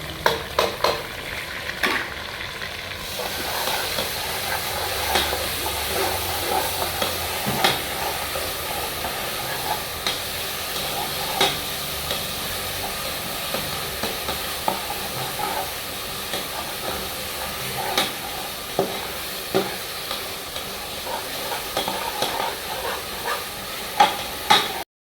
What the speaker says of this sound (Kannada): ಶುಂಠಿ ಬೆಳ್ಳುಳ್ಳಿ ಫ್ರೈ ಆಗಿದ ತಕ್ಷಣವೇ ನಾವು ಬೇಯಿಸಿಕ್ಕಿರುವ ಬೋಟಿನ ಹಾಕ್ಕೋಬೇಕು